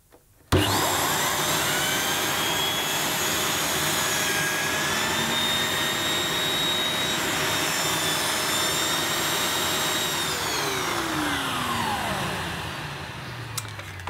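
A Dyson DC05 vacuum cleaner roars to life and runs steadily on turbo at high power with a loud whining motor, then winds down near the end.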